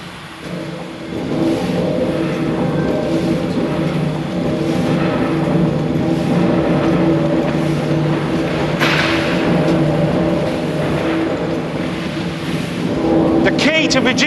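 Huge 12,000-horsepower steam engine driving a rolling mill for armour plate steel, a loud continuous droning rumble with steady low hum running throughout, some faint clatter near the end.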